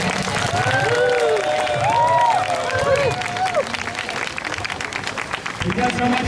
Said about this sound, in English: Round of applause for Jim McCauley.